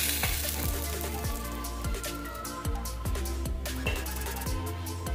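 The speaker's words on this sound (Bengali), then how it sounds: "আমি কড়া করেই ভাজলাম, কারণ আমাদের বাড়ি না কড়া ভাজা খায় মাছ" Koi fish fries crisp in hot oil with a steady, dense sizzle and crackle, with occasional pops and a rhythmic metallic scraping.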